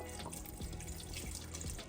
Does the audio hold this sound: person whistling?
no